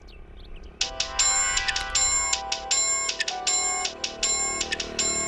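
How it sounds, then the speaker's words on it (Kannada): A mobile phone rings with an incoming call in a Kannada movie scene: a bright electronic ringtone of repeated melodic bursts starts after a quiet moment and keeps going steadily and prominently. "ಪ್ರೀತಿ ಫೋನ್ ಮಾಡಿರ ಕಣೋ."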